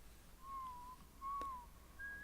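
A thin whistled melody from a pop song, a few sustained tones with slight pitch bends separated by short pauses, faint and alone over a quiet background.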